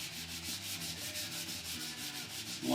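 Sandpaper is rubbed over the body of a Les Paul guitar kit in steady, close, back-and-forth strokes, giving an even rhythmic scratchy hiss with no talking.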